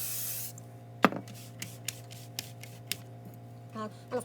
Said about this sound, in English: I'm just going to spray a little bit on there